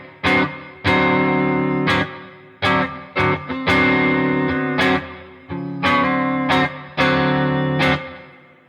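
Electric guitar strumming a bluesy dominant-seventh-type chord of root, major third and flat seventh, repeated in short strummed bursts with brief gaps, loud and close with a slightly driven, effected tone; no talking.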